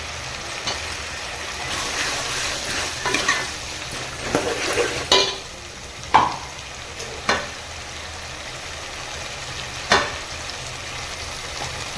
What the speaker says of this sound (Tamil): இப்போ பச்சை மிளகா சேர்த்துக்கலாம்.